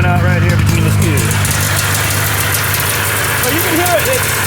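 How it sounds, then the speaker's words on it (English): A Ski-Doo Safari snowmobile with a 503 engine idling, running slightly lean, a steady close-up throb with a faint uneven pulse while someone talks over it. "So you can hear it. It sounds like it's idling a little lean to me."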